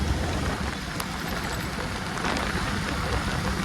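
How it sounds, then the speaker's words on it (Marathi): Heavy rain pours down in a dense, steady roar that holds at the same loud level throughout, with no voices. "पाऊस जोरात चालू आहे"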